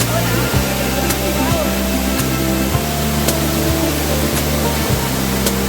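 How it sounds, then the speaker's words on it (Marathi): Water at the Shivdav waterfall rushes in a steady, loud, hissing roar that fills the whole stretch, with faint low thumps underneath. "शिवडावचा धबधबा आहे हा."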